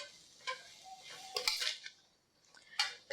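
A utensil clinks and scrapes against a pan while spring roll filling is mixed with salt and sugar, several short metallic taps and scrapes spread unevenly, close and fairly quiet.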